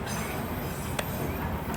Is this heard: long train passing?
yes